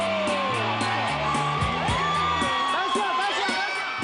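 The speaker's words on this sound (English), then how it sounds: "Fans screamed wildly outside the church for Quebec's royal couple." Wild screaming and cheering from a dense crowd of fans outside a Montreal church at a 1994 royal-style celebrity wedding, a continuous roar with shrill whoops and yells, loud and sustained throughout.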